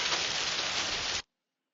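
Heavy rain pours as a dense, loud, continuous hiss for just over a second, then cuts off abruptly into silence.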